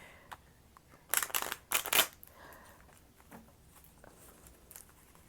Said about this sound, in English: Every time I mess up the cut, I gotta do one more shuffle